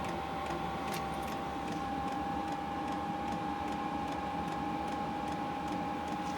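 An 8 kW Chinese diesel heater burning steadily just after ignition gives a constant, close roar with a steady whining tone and faint ticking clicks over it, and nobody speaks.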